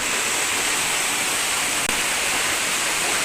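A waterfall at falls in Bagac, Bataan roars steadily as dense broadband white noise, close and loud, continuous throughout with no speech.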